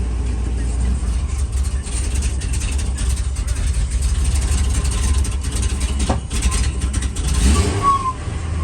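A Ford truck engine idles roughly after a cold start with an IAC and throttle body fault, running loud and steady close by with a brief rev partway through; a voice speaks over it.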